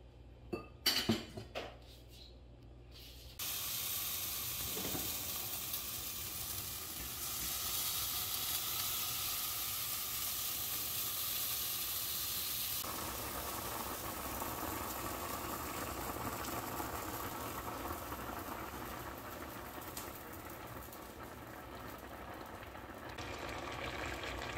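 Jaffna-style spicy cassava curry simmers in a covered pot, a steady soft bubbling hiss continuing throughout after a few brief clanks of pot and utensil at the start.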